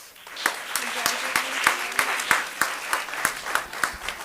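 An audience at a township committee meeting applauds young award winners, scattered distinct claps over a thinner clapping wash with some voices murmuring underneath.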